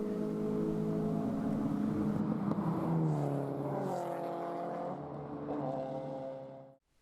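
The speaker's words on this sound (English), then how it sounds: "The sound of fully functional cars surrounded us as they zoomed past our pit box." Lotus Elise S-Cup race car engines drone loudly and steadily at Brands Hatch, pitch sweeping as cars pass close by the pit box one after another, then the sound cuts off abruptly.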